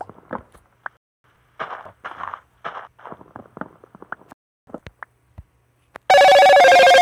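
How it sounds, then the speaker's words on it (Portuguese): A phone notification chime bursts in loud and clear near the end, after a stretch of scattered soft taps and clicks from phone use during a Minecraft session. "Chegando muita notificação, meu irmão"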